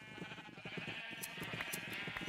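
Sheep bleat in a crowded pen, several overlapping calls at moderate distance forming a steady, continuous chorus.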